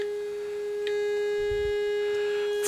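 A steady, buzzy electronic tone comes from a one-transistor two-pole audio filter fed a square wave and slightly overdriven, holding a constant pitch with rich overtones and a small shift partway through.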